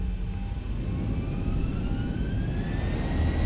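Boeing 737-800 jet engines in X-Plane 11 spool up toward takeoff power, a steady loud roar with a rising whine climbing in pitch throughout, no talk over it.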